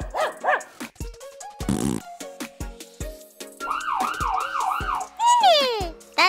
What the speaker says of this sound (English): The ambulance goes wee-oo